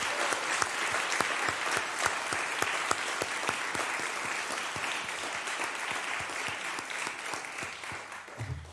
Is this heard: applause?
yes